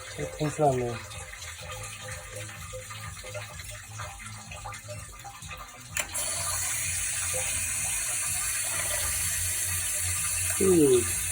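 Water runs from a tap with a steady hiss that grows fuller and louder partway through, with faint voices and handling noises underneath.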